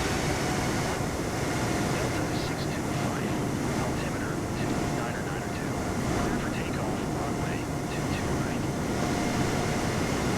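Aircraft flying low in Flight Simulator 2024, a dense steady engine and wind roar that stays constant and loud throughout, with no clear pauses.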